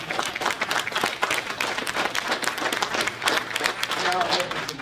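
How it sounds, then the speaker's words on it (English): An audience at a Birmingham mayoral candidates forum claps steadily for several seconds, a dense, even patter of many hands filling the room, with a few voices mixed in. "Give yourself a big round of applause."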